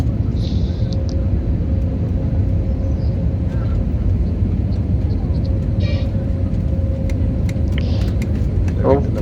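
Inside an airplane coming in to land at Delhi airport, a constant loud low cabin rumble of engine and airflow runs the whole time, with a few faint clicks and chimes over it.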